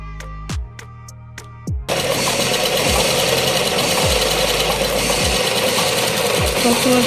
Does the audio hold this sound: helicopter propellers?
no